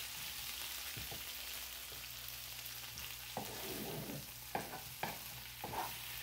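Onion and capsicum frying in a pan for chilli chicken, a soft, continuous sizzle punctuated by several sharp scraping strokes of a spatula.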